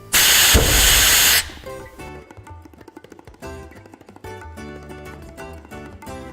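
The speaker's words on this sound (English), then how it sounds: "So what we're going to illustrate here is a flash fire." A grain dust flash fire demonstration sends out a loud, steady roaring whoosh for about a second and a half before it cuts off, followed by quieter mechanical background noise and faint clatter.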